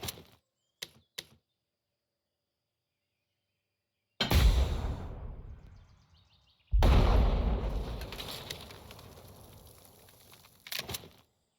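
A volley of gunfire in the WW2 game Valor & Victory: a few sharp clicks, then after silence two loud booming bursts with long rolling decays and a short crackle at the end, no speech.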